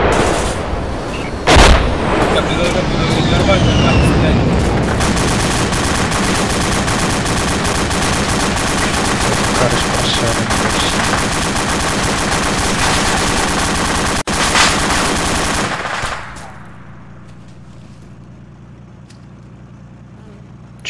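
A PKP machine gun fires in ArmA 2, long sustained bursts of rapid gunfire with heavy rumbling reports, loud and continuous before cutting off abruptly into quiet ambient noise.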